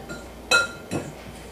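A fork clinks twice against a mixing bowl while stirring grated butter into flour for buttermilk biscuits, two short, close, bright taps with quiet pauses and no talk.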